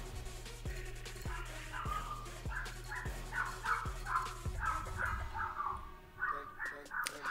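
A small dog barks in the video game Margonem, giving a steady series of sharp, evenly spaced yaps at moderate volume with no talk.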